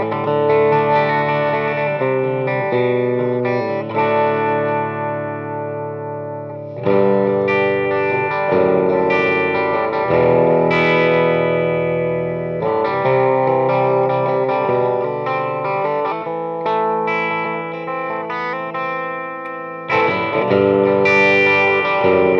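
A 1955 Fender Esquire electric guitar on its middle pickup setting plays a continuous run of chords and notes, loud and steady for over twenty seconds, with no talking.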